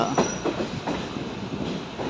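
A train of the Chennai Egmore Express stands at Mangalore Central station, its steady rail rumble and faint wheel clatter continuous and fairly close, with no voices.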